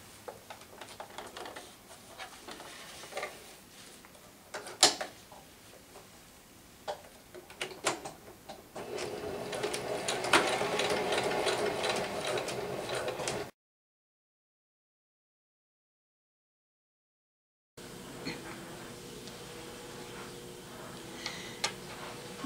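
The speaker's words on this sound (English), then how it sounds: "Now that you have finished sewing your elastic into the casing" A sewing machine stitches elastic into the casing of a bellydance coin scarf. Scattered ticks and small handling clicks come first, then a sustained burst of machine running, a silent gap, and further faint mechanical sounds near the end.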